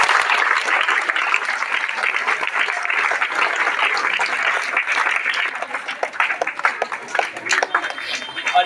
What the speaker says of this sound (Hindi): तो एक बार जोरदार ताली हो जाए अजीत डोभाल सर के लिए।